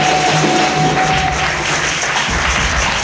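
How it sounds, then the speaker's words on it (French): A church congregation applauding during a sermon, steady sustained clapping from many hands filling the room for about three seconds, loud and dense with a faint tonal hum beneath and no clear speech. "Applaudissez Jésus."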